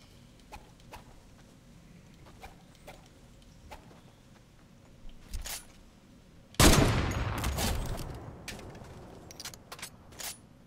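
Gun in a video game: scattered light clicks and taps, then a sudden loud, dense volley of rapid shots that continues in irregular bursts until the end.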